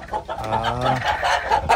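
Close, continuous vocalizing from a hen with a cold, a low throaty clucking run with a brief drawn-out squawk in the middle.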